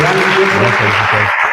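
An audience at a local history talk in Soria claps together in a brief, loud, dense burst of applause that fills the room.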